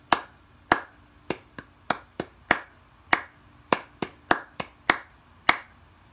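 Sharp hand claps beat out a loose rhythm, about fourteen crisp separate hits with short gaps between them, close and clear over a quiet background, with no talking.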